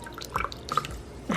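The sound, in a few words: pouring coffee from a French press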